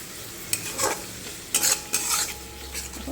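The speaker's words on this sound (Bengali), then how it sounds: "টক দইটা দিয়ে ভালো করে নাড়িয়ে চাড়িয়ে" Sour yogurt stirred into a home-cooked young-carp fish curry: a utensil scrapes and swishes through the thick sauce in a few uneven strokes with faint sizzling between them, close by and with no talking.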